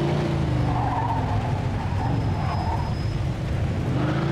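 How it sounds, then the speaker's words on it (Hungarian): Racing engine roar with sustained tire screeches as a car speeds and skids off a bridge in a video game, loud and continuous throughout, with a faint high whine near the middle. "Az autó leszáguldozott a hídról?"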